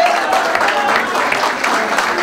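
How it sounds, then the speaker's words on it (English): Wedding guests applaud at a reception cake cutting, a dense, loud wash of clapping from a crowd, continuous and close, with voices mixed in. "And a round of applause, ladies and gents."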